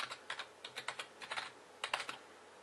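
Quick bursts of keystrokes on a computer keyboard, clicking in short irregular clusters with brief pauses between, close and fairly quiet with no voices.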